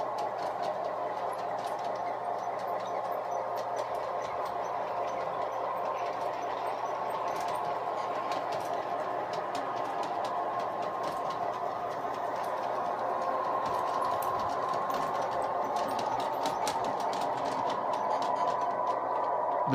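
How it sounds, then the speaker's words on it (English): A large-scale Hartland Mack model locomotive with DCC Tsunami sound runs steadily through a siding without slowing, a continuous mechanical whir and rattling clicks, close by, with no pauses. "notice that train is going through the siding with no slowing down"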